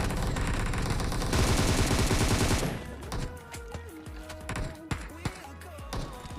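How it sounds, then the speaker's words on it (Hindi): Rapid bursts of gunfire from a PUBG Mobile squad fight, dense and loud at first, then breaking into scattered separate shots with game noise and speech over it. "नीचे से फायर आ रहा था"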